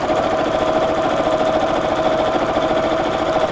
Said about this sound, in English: I'm just sewing all the way around, so nothing too interesting to see.